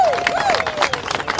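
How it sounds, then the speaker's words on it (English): A crowd outdoors at a political rally in Washington DC claps and cheers for police, scattered clapping and voices with a whistle-like tone sliding over the top. "Let's have another round of applause."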